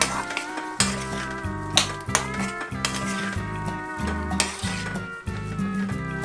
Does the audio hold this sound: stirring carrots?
yes